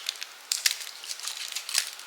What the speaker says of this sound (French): Donc on va mettre un bout de scotch.